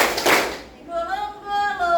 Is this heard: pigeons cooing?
no